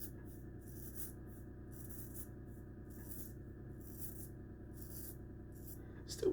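A hollow-ground straight razor makes a buffing pass over stubble during a shave, giving soft rhythmic scraping strokes in quick repeated bursts, close and quiet with no talking.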